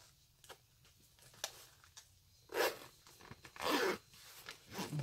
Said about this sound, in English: The zipper is nice.